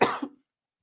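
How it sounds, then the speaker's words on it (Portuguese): A single short cough, close and fairly loud, that cuts off sharply into silence. "vou dar uma tossida aqui"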